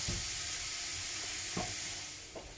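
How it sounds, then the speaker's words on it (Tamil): Chopped garlic frying in refined oil, a steady broadband sizzle with a few brief stirring scrapes, close and moderately loud with no voices. "ஒரு 3லேருந்து 4 பல்லு பூண்டு இந்த மாதிரி சாப் பண்ணி வச்சுருக்கேன்."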